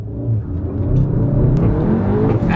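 A Volkswagen Golf GTI Clubsport S engine, 310 horsepower, roars up under acceleration, rough and loud throughout, with a few sharp crackling pops from the exhaust near the end.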